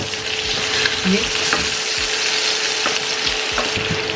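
Chicken sizzling steadily in a pot for a one-pot rice dish while a utensil scrapes across the bottom in several short strokes, loud and close, with no talking.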